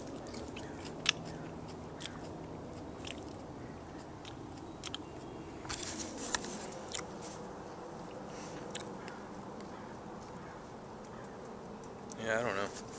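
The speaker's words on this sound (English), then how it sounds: "Let me eat it." Crisp, irregular crunches of someone biting and chewing a freshly picked leaf of a choy-type garden green, soft and close against a quiet outdoor backdrop, with a brief voice near the end.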